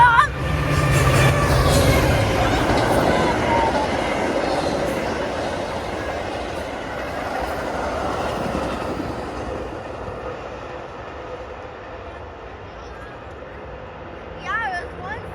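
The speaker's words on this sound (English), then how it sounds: "Another train, everybody." An F40PH locomotive pulling a passenger train past a railfan spot on Dee Road, loud and close at first with rumbling wheels and rail clatter, then fading as it moves away, while people talk nearby.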